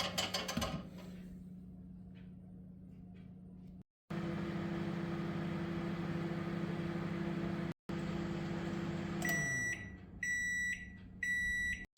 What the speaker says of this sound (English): I stick this butter in the microwave for around 30 seconds